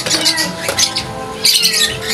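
A pet lovebird squawks loudly in a few sharp bursts, close by, with short pauses between calls.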